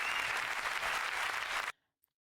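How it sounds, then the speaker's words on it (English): Applause from the audience at a George Carlin stand-up recording, a dense, steady roar of clapping that cuts off abruptly into silence. "Look at all these people clapping and being like, hell yeah."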